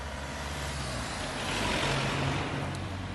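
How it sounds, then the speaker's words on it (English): Steady roar of passing road traffic, swelling as a heavy vehicle goes by close, with constant low rumble throughout. "Apologies for the noise, I'm on a slightly busy road."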